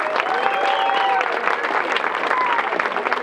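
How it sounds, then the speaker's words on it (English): A crowd claps continuously at the 2023 Tucson Musicians Museum induction ceremony, dense and loud throughout with no break. "Let's give them a big round of applause."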